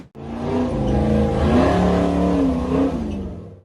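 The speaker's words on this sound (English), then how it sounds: "The dark gray off-road Jeep accelerated powerfully to climb a narrow, rocky hill" A dark gray off-road Jeep climbs a narrow, rocky hill with its engine revving hard and holding a loud, steady roar, the pitch rising and wavering as the throttle is worked, up close.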